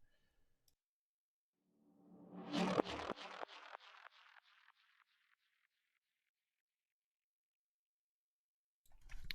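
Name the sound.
delay effect with feedback on percussion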